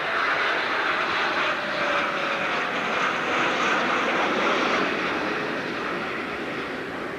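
A military patrol airplane makes a low pass at an airshow with its bomb bay doors open, its engine roar loud and steady throughout and slowly fading toward the end.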